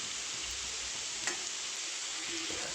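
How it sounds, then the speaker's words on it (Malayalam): Chopped onion drops into hot coconut oil and fries with a steady, close sizzling hiss that runs unbroken throughout, with no voices over it. "അപ്പം നമ്മൾ വെളിച്ചെണ്ണ ചൂടായിട്ടുണ്ട്. അതിലേക്ക് ഞാൻ ഇപ്പോൾ അരിഞ്ഞ് വെച്ചിട്ടുണ്ടായ സവാള ഇട്ട് കൊടുത്തു."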